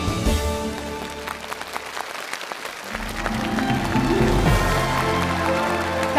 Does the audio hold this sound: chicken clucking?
no